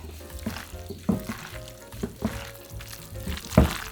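Soft, wet squelching and rustling as a bellflower root and cucumber salad seasoned with sesame oil and ground sesame is mixed by hand, in irregular close-up bursts.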